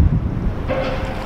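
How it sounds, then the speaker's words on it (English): Windy, choppy water washes over rocks on a cold shore near Pensacola, Florida, a loud rumbling surge mixed with heavy wind buffeting against the microphone. "And the waves just kind of roll over them right now."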